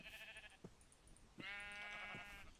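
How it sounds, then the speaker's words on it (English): Sheep bleat in a Minecraft survival world, a short call followed by a longer, louder wavering bleat, clear and close with no talking. "There are some sheep over here."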